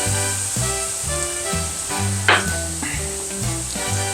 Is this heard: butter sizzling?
yes